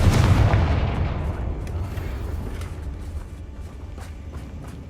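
The Confringo fire spell in Hogwarts Legacy lands as a heavy, booming blast that strikes at once and then rumbles away over several seconds, with faint clicks behind it.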